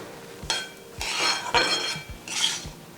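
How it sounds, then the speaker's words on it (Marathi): Semolina (rava) roasting in ghee in a pan while a spoon stirs it, for coconut rava laddoos. Four scraping, clinking strokes of the spoon against the metal pan come one after another, close and fairly loud, with no talk. "एवढ्या तुपावरच हा छान रवा भाजून घ्यायचा आहे"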